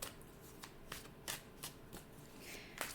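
Tarot cards being shuffled by hand, a quiet run of papery riffles and flicks with several sharper snaps, close up, no talking.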